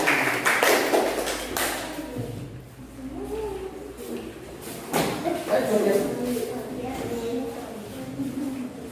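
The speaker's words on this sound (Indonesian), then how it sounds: "kita beri tepuk tangan untuk kelompok 1" A classroom of schoolchildren applauds a presentation group, scattered claps and taps rising and falling over about nine seconds with voices talking over them.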